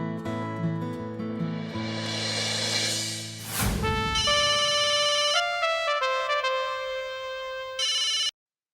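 A mobile phone ringtone plays while a call is being placed, sliding into a sweep and then settling into steady, bright electronic tones in repeated segments, loud and clear without speech.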